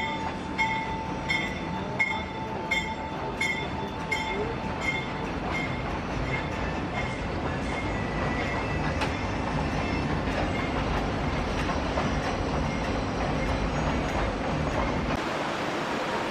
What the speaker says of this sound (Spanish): justo pasó uno de los trenes mientras estaba almorzando